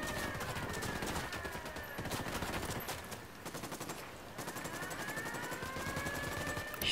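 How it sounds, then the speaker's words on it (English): Rapid machine-gun fire in a shooting game, continuous bursts of closely spaced shots over a droning helicopter-like engine hum, with short pauses between volleys, fairly loud. "Opening fire."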